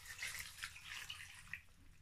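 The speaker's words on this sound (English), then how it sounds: "I'm going to add water." Water pours in a short, gentle splashing stream into a cooking pot of vegetable rice, fairly quiet and close, with no voices.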